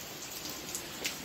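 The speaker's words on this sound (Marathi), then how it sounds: "सो ते सुरळीत झालेलं असताना परत आता पाऊस सुरू झालेला आहे." Rain falling in Nagpur during a heavy downpour, a dense steady hiss of drops with a few brighter splashes, close and even, with no voices.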